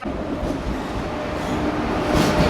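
A train pulls into a station on the way to Murudeshwar, its heavy rumble and rolling wheel noise steady and close, swelling slightly louder toward the end; no speech.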